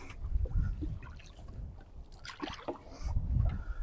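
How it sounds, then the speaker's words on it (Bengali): A rowboat handled by a boatman moves through water, with low sloshing surges from the strokes coming and going in a loose rhythm over a steady breath of wind. "স্পিড বেড়ে গেছে না নৌকার?"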